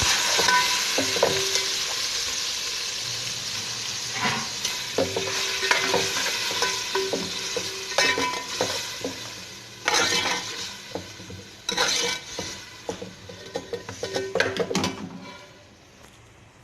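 Garlic and ginger paste sizzles and spits in a hot frying pan while a spoon stirs and scrapes it, with the frying steady and close and clinks of metal against the pan, no one talking.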